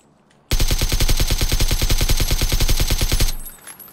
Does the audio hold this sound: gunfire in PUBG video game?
yes